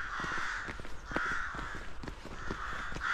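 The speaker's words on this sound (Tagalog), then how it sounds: "Itim na ibon. Sabi ng uwak." A crow caws repeatedly outdoors in Denmark in winter, a series of harsh, nasal calls in quick bursts, fairly close and clear against light background noise.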